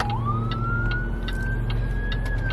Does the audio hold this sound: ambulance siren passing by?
yes